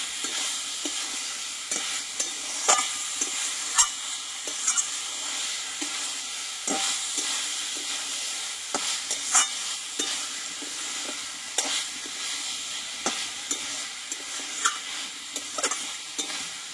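Pointed gourd being stir-fried with tomato in a pan, with a steady close sizzle and frequent sharp spatula scrapes and taps at an uneven rhythm.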